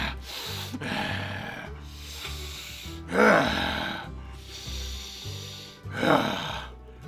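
A storyteller's voice imitates a bear sniffing, with a few drawn-out snuffling breaths and two louder snorting inhales, close to the microphone.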